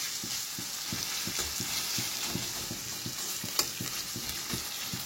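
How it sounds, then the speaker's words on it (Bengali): Garlic, onion and dried chilli frying in white oil in a pan, a steady sizzle with regular rhythmic stirring scrapes roughly every half second, close and continuous with no talk. "আমি কিন্তু যখনই ভাজা করি রসুন ফোড়ন দিই, পেঁয়াজ দিয়ে, শুকনো লঙ্কা ফোড়ন দিয়ে ভাজা করি"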